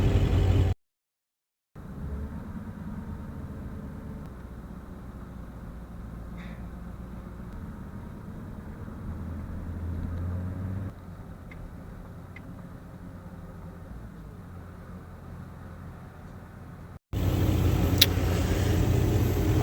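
A diesel truck's steady low engine rumble idles on and on, fairly close, with a brief silent gap near the start and louder noise at the end.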